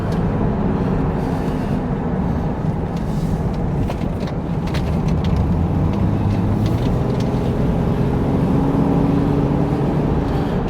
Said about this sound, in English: This road's a little bumpy, but the car's actually handling it pretty well.